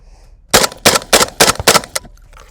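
Six loud, sharp blasts from a Saiga 12 semi-automatic 12-gauge shotgun fired in rapid succession at a quick, slightly uneven pace, close by and then stopping abruptly.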